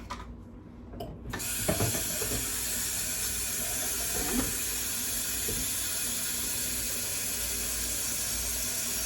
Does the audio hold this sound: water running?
yes